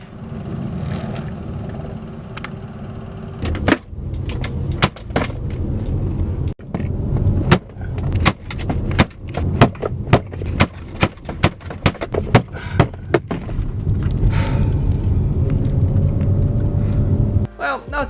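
A car ride, heard from inside with a continuous engine and road rumble, broken by a long run of sharp, irregular thumps and clacks that come loud and close before easing back to a steady drone.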